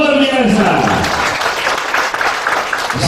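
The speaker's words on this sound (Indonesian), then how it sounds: "Tepuk tangan untuk pencurahan yang luar biasa." Loud, dense applause from an audience at a corporate gathering, continuous clapping throughout while a speaker's voice rises over it at the start.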